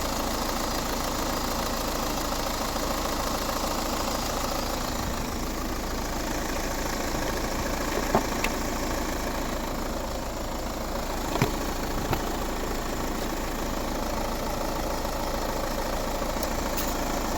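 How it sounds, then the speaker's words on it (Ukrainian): The 2.0 HDi diesel engine of a 2011 Peugeot 308 SW automatic idles steadily and evenly, a constant low rumble with a faint rhythmic knock and a few small clicks, no voices. "Робота двигуна."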